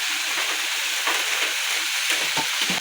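Shepu bhaji, a homemade Konkani dill-leaf vegetable dish, sizzles steadily in a hot pan while being stirred, a loud continuous frying hiss with scraping stirs and no talk.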